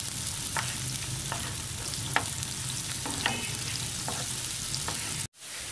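Chopped onions frying in a pan for tawa qeema, a steady close sizzle with occasional soft scrapes of a stirring spoon, briefly cut before it resumes.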